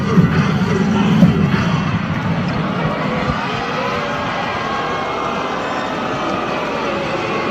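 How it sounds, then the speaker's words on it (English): Crowd in the Phil Sports Arena at a SEA Games men's volleyball semifinal, a dense steady roar of many voices filling the arena, slightly louder at the start and then holding level throughout. "We hear the crowd now in the Phil Sports Arena"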